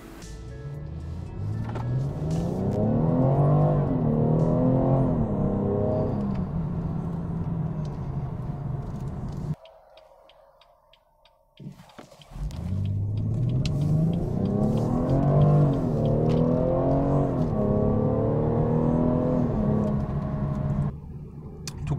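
BMW 440i xDrive coupé convertible pulls hard on the autobahn, engine rising through gears with repeated climbing sweeps, a brief lull around a shift, heard from inside the cabin with strong road and wind noise.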